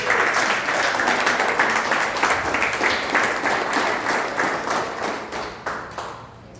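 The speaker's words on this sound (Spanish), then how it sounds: "Dale un aplauso al Rey de Reyes" Church congregation applauds during a sermon, a full round of clapping that holds steady and then tapers off toward the end.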